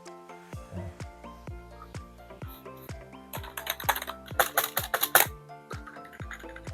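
A cheap RGB keyboard built to mimic a mechanical one is typed on: clicky keystrokes, at first spaced out, then a faster, louder flurry of presses, close to the listener and without talk.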